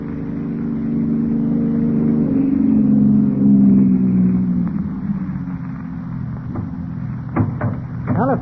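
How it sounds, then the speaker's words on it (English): A car's engine rumbles as it comes up a street, swelling to a peak and then easing off, with a few sharp knocks near the end. "Joe, a car coming up the street."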